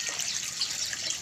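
A strong, steady stream of water pours from a tap, a continuous loud hiss and splash with no pauses.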